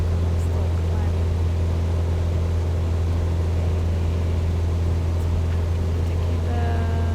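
Light aircraft in steady climbing flight, turning gently after departure from Nelspruit Airfield: a loud, constant engine and propeller drone with a deep low hum, heard from inside the cabin with faint radio chatter underneath.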